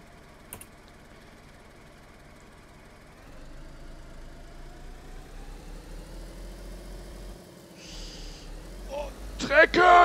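A car engine hums steadily while driving in the survival video game DayZ, a low droning tone that starts quietly and grows after a few seconds, with a sharp sound near the end.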